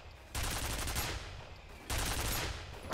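An automated sentry gun in a video game fires two sustained bursts of rapid, loud automatic fire, each about a second and a half long, separated by a brief pause.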